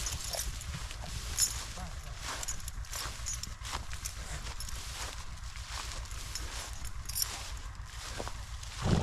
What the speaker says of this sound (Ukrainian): Дуже гарна кобила.